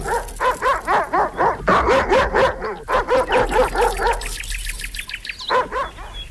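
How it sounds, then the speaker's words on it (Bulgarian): A dog barks angrily and repeatedly at close range, a fast run of loud, harsh barks broken by a brief pause and whimpering before a few more barks, with no talking over it. "злобно лае, изглежда, че усети нещо нередно"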